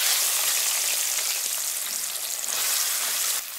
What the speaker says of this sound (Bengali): এবার এগুলোকে একটু ভেজে নেব।